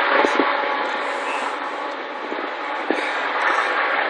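A decorated Christmas train rolls past on Cajon Pass in California, a steady broadband rumble and rush of railcars close by, with faint talk underneath.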